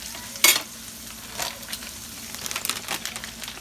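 Hamburger meat sizzles and crackles in a frying pan, a steady close hiss with scattered pops and a few sharper scraping or stirring sounds.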